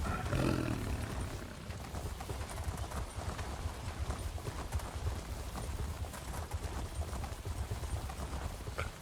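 Steady rhythmic hoofbeats of a mount in Elder Scrolls Online clip-clop continuously over a low rumbling background, moderately loud throughout.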